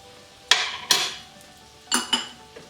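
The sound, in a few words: stirring butter into lentils in a pot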